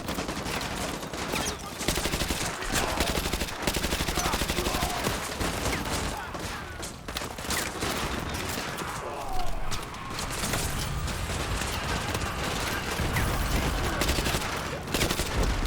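Dense, continuous automatic gunfire in Modern Warfare 2 Remastered, loud rapid bursts and explosions filling the whole stretch without pause.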